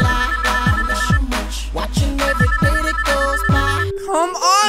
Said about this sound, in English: Let me just type in his number and yes, it's ringing.